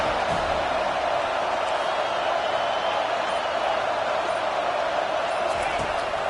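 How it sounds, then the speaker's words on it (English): A college football stadium crowd roars for the defense on third down, a dense, loud, sustained wall of cheering and noise with no breaks. "Decibels rising as the crowd gets behind this defense on third down."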